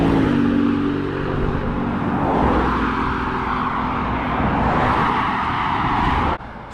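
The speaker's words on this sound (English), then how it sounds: "it was just so loud with all the cars going past" Cars rush past a cyclist on a busy road in Scotland, a loud, continuous traffic roar with swells as vehicles pass close by, ending abruptly.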